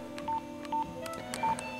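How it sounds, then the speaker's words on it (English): Keypad tones from an old Nokia 5185i cell phone, three short beeps spaced unevenly across under two seconds, clear and close against a quiet background hum. "You'd have to press unlock and the star key, and that would unlock your phone."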